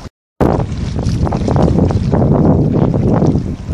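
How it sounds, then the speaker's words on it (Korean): Strong wind over the Han River beside a ship converted into a floating café, blowing steadily as loud broadband rushing and buffeting against the microphone after a brief silent gap at the start. "오늘도 바람이 좀 센 편입니다"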